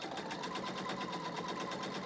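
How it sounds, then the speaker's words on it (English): A sewing machine straight stitches a fabric petal with a 1/4 inch seam allowance, making a continuous, quiet, rapid whirring hum with a fine pulsing needle rhythm and no voices. "just using a 1/4 inch seam allowance, I do a little straight stitch"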